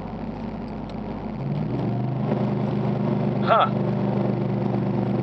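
A 2008 Nissan Titan with an RE5R05A automatic downshifts from third to second while slowing at about 40, the engine note rising into a short blip partway through, heard from inside the cab with a brief mutter.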